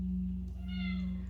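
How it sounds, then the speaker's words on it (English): A cat gives a single drawn-out meow over a steady low electrical hum, faint and close, with no one speaking. "the meditation cat, did you come to join us tonight?"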